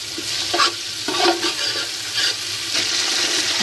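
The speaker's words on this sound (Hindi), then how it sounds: "इसकी हल्की सी भुनाई करेंगे।" Garlic ginger paste fries with browned onions in a pot for beef pulao: a steady, close sizzle with several louder bursts of stirring scrapes every second or so.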